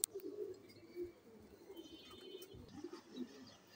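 Pigeons coo softly at a pigeon market, a few low throaty calls spread across the moment, quiet and fairly close, with faint background noise and a sharp click at the start.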